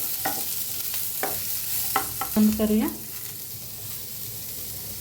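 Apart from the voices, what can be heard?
ingredients being lightly roasted and stirred in a pan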